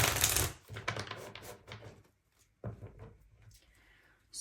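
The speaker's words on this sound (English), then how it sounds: "let's shuffle." Tarot cards are shuffled in quick riffling bursts, a soft papery flutter close by, pausing briefly before another short shuffle.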